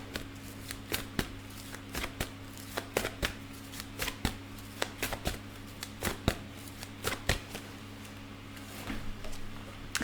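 Tarot cards are shuffled and drawn in quick, crisp riffles and snaps that come in irregular bursts, close and fairly quiet over a steady low hum.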